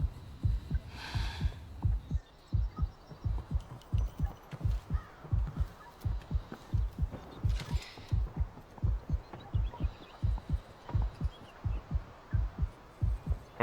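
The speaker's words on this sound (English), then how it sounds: "That heartbeat of the health regening" Heartbeat of health regenerating in the Delta Force video game, a steady low double-thump pulse repeating throughout, with faint game ambience and brief crackly bursts behind it.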